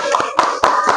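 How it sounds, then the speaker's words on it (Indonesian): Several sharp hand claps in quick succession, close and loud, evenly spaced with a steady rhythm. "Tepuk tangan."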